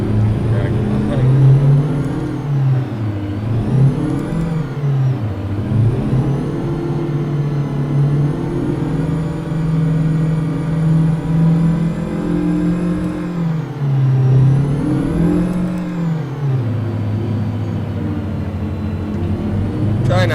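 Truck engine in American Truck Simulator, a steady droning hum with repeated rising revs as gears shift, continuous and moderately loud, with someone talking over it.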